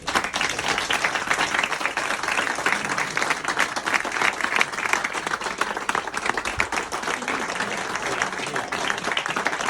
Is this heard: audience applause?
yes